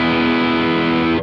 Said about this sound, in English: that's on the distortion setting with the most amount of gain